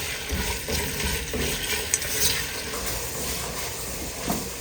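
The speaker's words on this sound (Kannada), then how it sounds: "ಈರುಳ್ಳಿ ಸ್ವಲ್ಪ ಗೋಲ್ಡನ್ ಬ್ರೌನ್ ಕಲರ್ ಬರೋ ತನಕ ಚೆನ್ನಾಗಿ ಹುರ್ಕೊಬೇಕು" Onions sautéing in a pan until golden brown, a continuous close sizzle with soft stirring scrapes and small clatters throughout, no voices.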